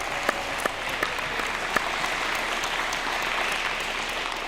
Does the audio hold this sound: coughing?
no